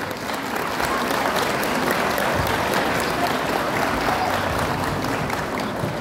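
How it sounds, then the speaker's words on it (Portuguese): Sustained round of applause from a crowd at an inauguration of an arts centre in a public park, loud and dense throughout with no break. "Uma salva de palmas"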